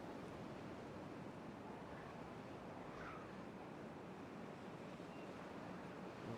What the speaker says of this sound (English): Okay, water flows underneath right there.